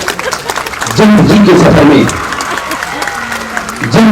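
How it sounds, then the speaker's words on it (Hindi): Loud applause from a village stage audience swells and fades, with someone speaking over the clapping near the start and end. "जोरदार तालियां।"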